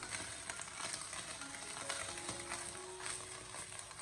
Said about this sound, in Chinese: 我们全程开大火，将蒜苔给它持续的翻炒